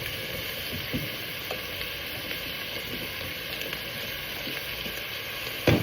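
Cubed potatoes hiss and sizzle steadily in a hot pan, a constant loud frying crackle with a sharp clatter at the end.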